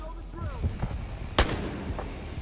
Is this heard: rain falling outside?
no